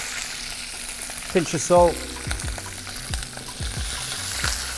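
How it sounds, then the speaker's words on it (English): Spinach sautéing briefly in olive oil in a pan, a soft steady sizzle broken by a few sharp clatters and scrapes of stirring, close by, with a short spoken remark over it. "A little bit of olive oil, just going to really quickly saute some spinach"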